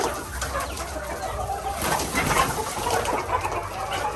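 Backyard chickens cluck and murmur softly while pecking at leftover grated coconut, a continuous low flock chatter against outdoor background noise, with no one speaking.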